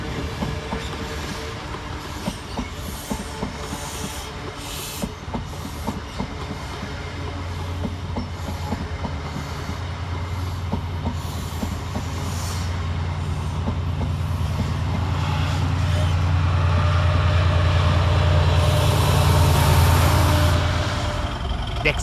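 Diesel locomotive 68010 propels a Chiltern Railways passenger train through Birmingham Snow Hill station, its engine droning louder as it passes, wheels clicking and squealing on the rails over steady noise.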